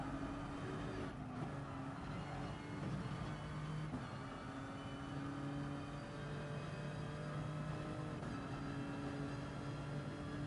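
A race car engine captured by an onboard camera during a circuit race, a loud continuous drone with shifting tonal whine as the revs rise and fall, heard alone.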